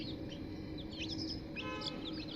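Newly hatched chicks peep in a rapid, overlapping chorus of high chirps, fairly close, over a steady low background hum, with no talking.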